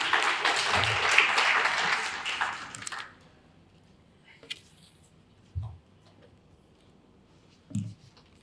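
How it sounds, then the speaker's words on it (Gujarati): An audience at a teachers' college convention applauds a speaker with dense, fairly loud clapping that fades out after about three seconds, followed by a few scattered taps and knocks in a quiet hall. "આપણે સૌ તાળીઓથી વધાવી લઈશું."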